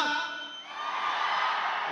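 A large crowd in a theater roars, cheering and shouting together in a sustained wash of noise that swells louder.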